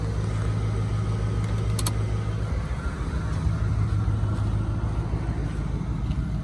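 A Dodge truck engine runs with a steady, loud rumble throughout, with constant low droning and no pauses or voices.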